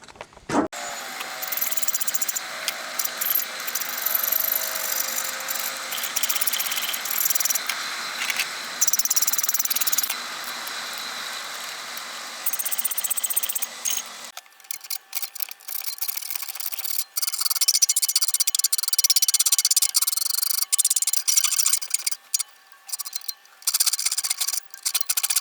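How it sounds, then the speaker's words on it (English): A hand file rasps back and forth across a forged steel wrench clamped in a vise, continuous scraping strokes close by, changing to a brighter, thinner rasp partway through. "chalk her up in the vise over here and start working on filing"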